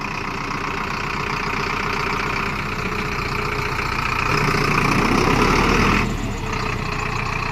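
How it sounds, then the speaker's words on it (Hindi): Engine of a 75 HP 4x4 tractor idling nearby, a steady loud diesel rumble with an even mechanical texture that swells briefly before settling back. "जैसे नॉर्मल CRDI इंजन की आवाज़ होती है उससे कहीं बेहतर कड़क आवाज़ है इसकी"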